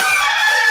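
A rooster crowing as a radio show intro effect, one sustained, bright, close crow with no talk over it.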